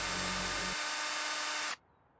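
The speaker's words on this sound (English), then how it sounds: "How many holes do you want me to drill?" Power drill whirring in House Flipper 2, a steady buzzing run with a lower motor tone at the start, cutting off abruptly after under two seconds, alone without talk.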